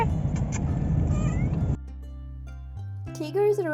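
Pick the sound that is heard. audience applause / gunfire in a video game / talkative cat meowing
talkative cat meowing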